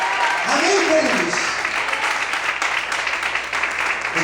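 A church congregation applauds at an evening worship service, a broad wash of clapping that continues steadily under a voice and a sung or spoken tone.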